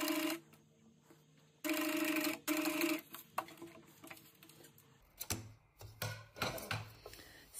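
A sewing machine stitches a fabric face mask with elastic, running in a couple of short, steady mechanical bursts. Quieter rustling and handling noises fill the gaps between runs.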